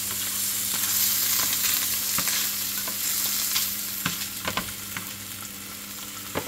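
Liver frying in butter in a pan makes a steady close sizzle, broken by irregular clicks and scrapes of a utensil that grow more frequent toward the end, with no speech.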